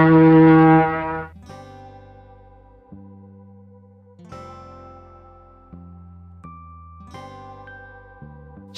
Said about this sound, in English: Ship.